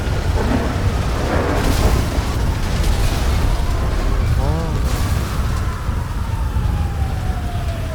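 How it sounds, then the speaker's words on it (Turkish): Rumbling meteor-storm explosions in Grand Theft Auto V boom under a continuous roar, with a rising and falling siren-like tone threading through; no speech is heard. "Oha her şey patlıyor lan"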